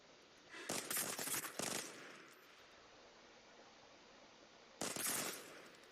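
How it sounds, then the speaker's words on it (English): In the video game Arena Breakout, gunfire comes in two loud bursts of rapid automatic fire, the first about a second long and the second shorter and near the end, separated by quiet game ambience. "The gun is going vroom, but his bullets are going all of them all in there."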